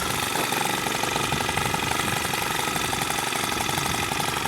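A Stihl HT131 pole saw's small engine runs steadily and loud close by, with a dense, buzzing drone and rapid rattling texture that holds constant throughout.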